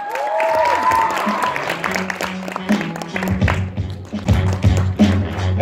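Audience applause for the first performer at a KVN humor festival in Pyatigorsk's city house of culture: a loud, dense patter of clapping with scattered thumps that follows a brief high whistle-like tone, swelling and continuing throughout.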